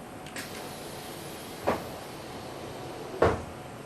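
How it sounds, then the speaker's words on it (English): An enclosure door on a femtosecond laser station is pushed shut, closing its safety interlock; two sharp, close thumps and clicks land a second and a half apart over a steady background hum, with no talking. "If we close the door"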